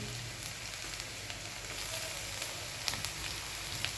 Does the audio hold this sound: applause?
no